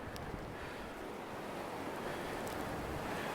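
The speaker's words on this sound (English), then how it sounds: "You can hear the waves underneath here." Ocean waves washing beneath a seaside walkway, a steady broadband rush of surf mixed with wind noise, continuous and fairly loud with no talking.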